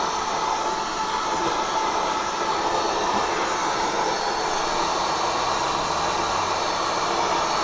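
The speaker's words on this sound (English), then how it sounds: "2 clicks and you can just go like this and blow out your computer" An air blower blasts dust out of a computer's fans, giving a steady, loud, hissing whoosh of air that runs unbroken and alone throughout.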